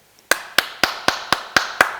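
Seven sharp hand claps by a lecturer at a steady, even pace, crisp and fairly close in a quiet room with no talking.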